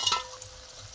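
Small fish jhal stir-frying in a pan, a brief soft sizzle with a light scrape of stirring, close and fairly quiet, no voices.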